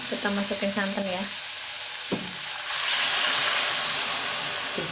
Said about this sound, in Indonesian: Kita masukin santan ya.